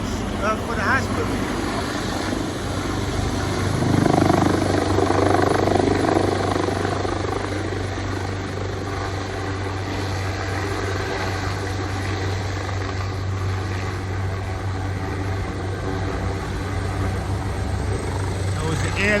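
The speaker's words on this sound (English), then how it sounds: "I observe a helicopter come on over here for transport." Emergency medical transport helicopter flying overhead near a hospital in Newark, New Jersey, a steady low rotor drone holding throughout and swelling slightly louder early on as it passes, with no talking.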